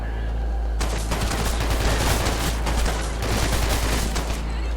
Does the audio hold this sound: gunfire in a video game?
yes